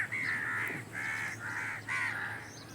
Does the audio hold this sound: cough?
no